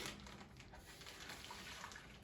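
Warm tap water being poured into a bowl to proof yeast for sufganiyot, a soft, continuous splashing trickle that stays close and fairly quiet the whole time.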